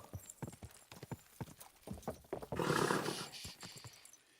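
Steady rhythmic horse hoofbeats clip-clop in a quick gallop in the video game Kingdom Come: Deliverance II, with a brief rushing burst partway through; no voices.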